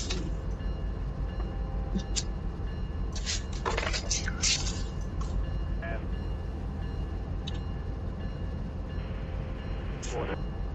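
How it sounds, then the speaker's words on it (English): BNSF 8116 rolls along in the RUN8 train simulator with a low, steady rumble, while scattered metallic clanks and squeals rise over it now and then. "BNSF 8116 on the move."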